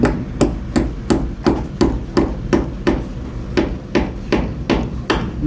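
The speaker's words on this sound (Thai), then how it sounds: "ตอกเนี่ย" A hammer drives nails into a wooden door frame, about a dozen loud, close, evenly spaced blows in a steady rhythm, with no talk over them.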